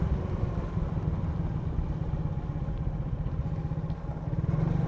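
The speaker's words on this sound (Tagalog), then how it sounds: "Ang motor naman natin ay smash" A Suzuki Smash motorcycle runs steadily while riding, a close, constant low engine drone with rapid putter and faint clatter, heard alone without talk.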